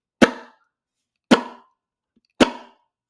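Saxophone played percussively like a snare drum with no pitch: three sharp, evenly spaced noisy bursts about a second apart, each with a quick decay, close and alone.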